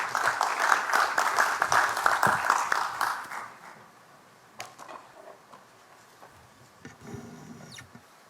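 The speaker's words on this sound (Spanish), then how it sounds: "La recibimos con un fuerte aplauso, por favor." A crowd at a legal lecture applauds loudly to welcome a senior superior court judge from Ayacucho. The dense clapping lasts about three seconds, then dies away into scattered faint claps and room noise.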